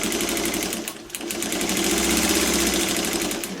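A sewing machine stitches a quilt along a diagonal line, running in a steady, close mechanical whir with a brief slowdown near the start before carrying on evenly.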